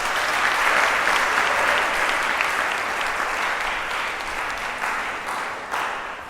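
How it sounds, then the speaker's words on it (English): Sustained audience applause in a theater after a show, a dense, steady wash of many hands clapping that stays loud throughout and tapers slightly near the end. "I think you should clap for yourself."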